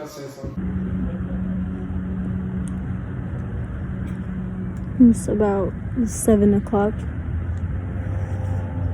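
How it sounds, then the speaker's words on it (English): Road traffic rumbles steadily at a bus stop around 7 o'clock, with a low engine drone and passing vehicles underneath, while people talk nearby and brief louder bursts rise near the end. "We're at a bus stop."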